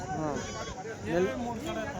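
Sheep bleat at Angallu livestock market, a weekly sheep and goat fair, several wavering cries close by and overlapping, with people talking over them.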